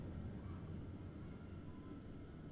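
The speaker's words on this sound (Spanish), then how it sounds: "Un helicóptero." In the video game Man of Medan, a helicopter is heard as a faint, distant, steady low rumble droning on without change.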